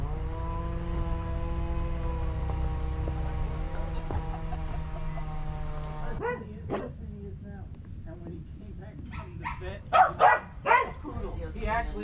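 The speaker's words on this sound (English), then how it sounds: "He actually is a poodle." A poodle in Veracruz, Mexico, lets out a few loud, sharp barks near the end. A steady tonal hum and people talking come before the barks.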